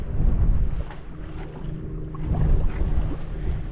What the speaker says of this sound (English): So we're on our way under sail, and that's the first time we've had the headsail up.